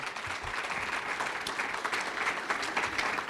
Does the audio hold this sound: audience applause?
yes